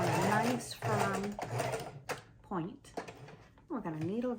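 A sewing machine stitches around the corner of a mini junk journal, its rapid mechanical chatter running in short bursts and pausing at the pivots while a person talks over it throughout.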